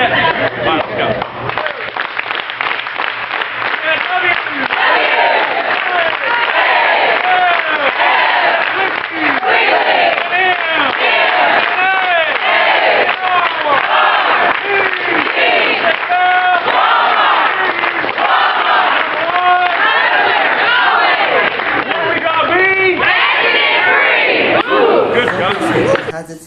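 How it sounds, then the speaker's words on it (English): Walmart store staff giving a loud group cheer, a dense, sustained crowd of voices shouting and chanting together close by for nearly the whole stretch. "this needs to be the loudest Wal-Mart cheer"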